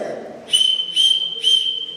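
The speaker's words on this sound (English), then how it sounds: "3 quick whistles, and you do this repeatedly, and it tells your neighbors that ICE has been spotted in your neighborhood." Three quick, shrill whistles in a row, close and clear, used as a repeated warning signal to neighbors, with no talking over them.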